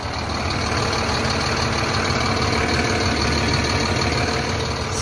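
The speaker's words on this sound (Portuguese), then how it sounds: "Agora, o mais lindo é o ronco desse motor" A heavy Volvo bus diesel engine idles steadily and loudly up close, a constant low rumble with no talk over it.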